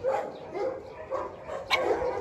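Several dogs barking at a large dog kennel among Shiba Inu, Golden Retrievers, Corgis and Pekingese, the barks sounding in short repeated bursts at moderate distance with a mix of yips.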